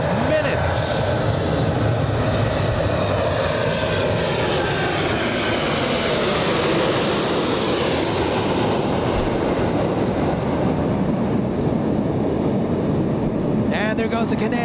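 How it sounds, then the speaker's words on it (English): A WestJet 737-800 arriving from Edmonton at Los Angeles International Airport passes close by as a loud, steady jet roar, with engine whine sweeping in pitch as it flies past and a person talking nearby. "WestJet 1422 flying in from Edmonton, a 737-800."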